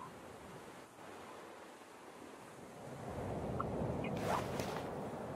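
Sea waves wash steadily in the survival video game The Forest, a broad rushing surf that swells louder in the second half, with no voices over it.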